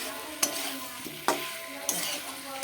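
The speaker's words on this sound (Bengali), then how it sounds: "এবার এটাকে একটু ভালো করে কষাবো" Pointed gourd and potato sauté in a pan, a continuous sizzle broken by three sharp spatula knocks against the metal, close and alone.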